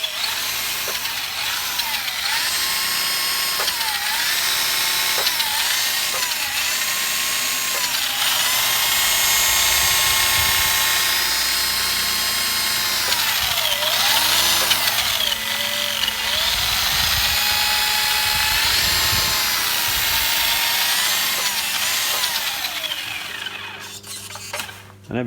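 A 1988 Tamiya Avante RC car whines steadily once switched on, its electric motor running continuously and the steering servo buzzing in short bursts, close up and with no talking.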